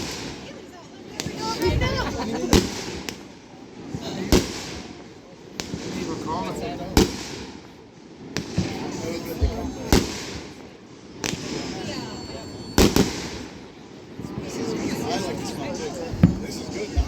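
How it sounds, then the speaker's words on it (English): Fireworks burst in a series of sharp, loud cracks and booms at irregular intervals over roughly seventeen seconds, with people chatting nearby throughout. "these fireworks are pretty long."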